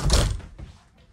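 A house door swings shut with a single loud, close thunk, and the sound dies away quickly into quiet.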